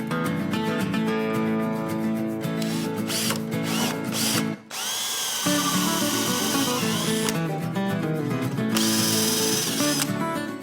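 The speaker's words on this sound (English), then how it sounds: "I'm using a 3/8 Forstner bit to drill through from this side." A power drill fitted with a 3/8-inch Forstner bit bores through wood, a loud, steady whining drone that runs almost the whole time with one brief dip near the middle.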